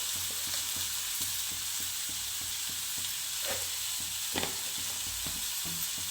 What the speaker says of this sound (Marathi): आता टोमॅटो छान परतून घ्यायचं आपल्याला